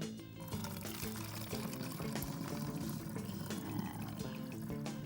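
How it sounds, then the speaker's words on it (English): Really hot water is poured through a funnel into a plastic bottle, giving a continuous gurgling, rushing pour that stays steady and close for several seconds, with no talk. "I'm going to pour the really hot water into the plastic bottle."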